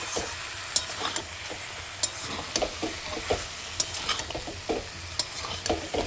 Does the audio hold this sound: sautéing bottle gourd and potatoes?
yes